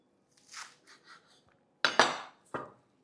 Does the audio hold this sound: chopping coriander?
yes